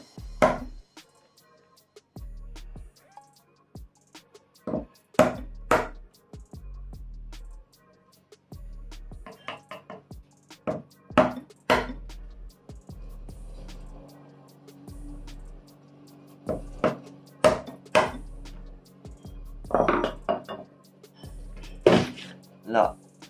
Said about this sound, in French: on va couper sur le trait du tranché. On y va vraiment avec des petits coups secs